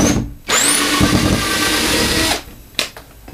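A power drill backs a screw out of a radiator bracket: a loud, close whirring run of about two seconds, then a short second burst after a pause.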